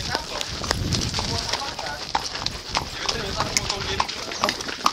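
Hooves of a cattle herd being driven through a town street, a dense, continuous clatter of many hoof strikes on pavement with people talking in the background throughout.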